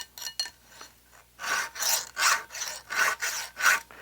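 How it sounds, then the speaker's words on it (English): Rhythmic rasping strokes of a file sharpening a chainsaw chain, a few quick scrapes then a series of longer, even strokes, close up. "you guys don't want to sit and watch me sharpen a chainsaw"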